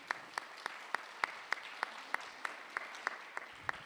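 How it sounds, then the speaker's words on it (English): Faint applause at an international AI policy summit in Paris: sparse, evenly spaced claps in a steady rhythm, quiet and distant-sounding against a hushed room. "Please some applause"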